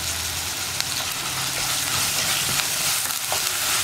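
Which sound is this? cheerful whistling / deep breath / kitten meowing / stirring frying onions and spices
stirring frying onions and spices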